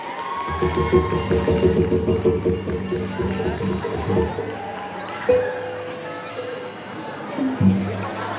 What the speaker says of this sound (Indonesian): Selanjutnya kita berikan aplaus buat kelasnya Bu Siti